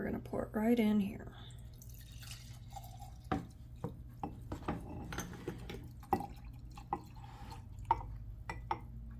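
Vodka poured from a bottle into a glass jar to make homemade extract, with brief trickling and a run of soft drips and small glassy taps close by after a short burst of speech.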